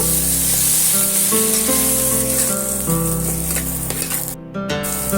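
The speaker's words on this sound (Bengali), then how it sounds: "একটু ভাজা ভাজা করে নেব" Onions and tomatoes sizzle in a pan for aloo dopiaza, a steady frying hiss with occasional stirring scrapes, and soft music playing underneath.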